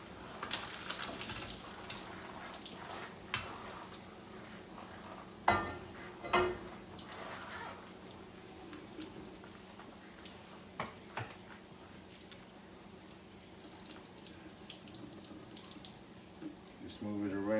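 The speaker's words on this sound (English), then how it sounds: "Just move it around so to drain all the little juice off of it." Juices from cooked quiche filling drain off into a pan or sink, a faint wet trickle and splashing with a few sharper clinks near the start, fairly quiet throughout.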